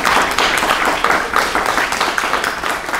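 Dense, steady applause from an audience at a public science talk, loud and close, a continuous wash of many hands clapping with no voices on top.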